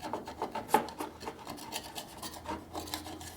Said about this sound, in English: you can scrape it down like this and just smooth it up